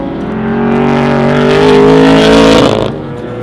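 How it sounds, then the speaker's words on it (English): A 1957 Chevrolet Corvette racer with a 3-inch exhaust roars close by, its engine note swelling louder and rising in pitch before dropping off sharply, with a deep, rumbling exhaust and no talk. "it's got 3-inch exhaust on it, so it sounds pretty loud."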